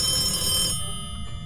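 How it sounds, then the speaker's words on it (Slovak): A telephone rings in the Phasmophobia ghost-hunting game, a bright electronic trill for under a second before cutting off, with low background hum continuing afterward. "Telefón."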